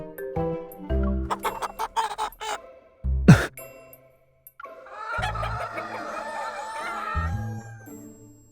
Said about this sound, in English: The chicken suddenly let out angry cries.